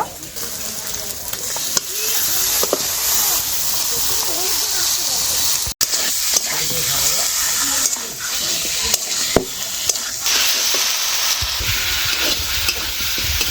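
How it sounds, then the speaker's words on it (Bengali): Chicken pieces sautéing in a spice paste with Kashmiri chilli powder, a steady close sizzle with scraping stirs throughout, while a voice talks over it. "মশলাটা খুব ভালো করে কষিয়ে নিয়েছি, এবারে দিয়ে দেবো মাংস।"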